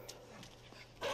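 Dog barking in the video game Inside, a short burst of sharp barks and yips over a constant game ambience, ending with a louder bark, moderately close.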